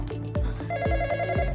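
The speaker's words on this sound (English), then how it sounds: "Is that my phone ringing?" A phone rings loudly nearby, its electronic ringtone pulsing in a steady repeating rhythm with punchy beats underneath.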